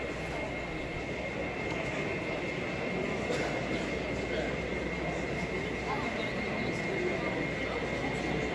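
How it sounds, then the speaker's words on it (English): An N gauge model coal train led by a Union Pacific SD-70 rumbles steadily at an exhibition, a continuous close mechanical drone with a faint high whine and ambient hall noise. "A Union Pacific SD-70 leads an empty coal train as it comes to a stand on one of the tracks."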